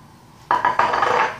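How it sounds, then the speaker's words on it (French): Eggs with a pinch of salt and sugar get beaten in a bowl, a utensil striking and clattering against the sides in quick, close repeated taps that build into a steady rattling whisk. "je bats jusqu'à ce que mon mélange devienne mousseux"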